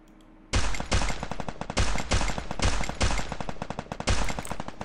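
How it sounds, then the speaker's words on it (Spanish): Rapid shotgun blasts in the mobile shooter game Free Fire, a dense loud burst of repeated gunfire that starts abruptly and continues almost without pause. "con la escopeta yo creo que no lo voy a dar"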